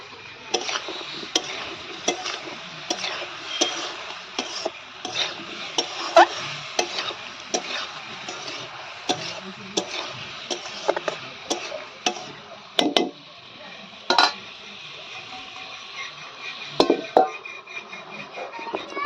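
Brinjal slices fry in a pan with a soft steady sizzle, broken by frequent sharp ticks and scrapes of a spatula stirring and turning them, close and fairly quiet.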